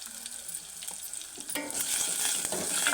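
Onions, green chillies and turmeric sizzle and fry in a pan while a spoon stirs them, with scraping strokes and a bright crackle that grows louder partway through.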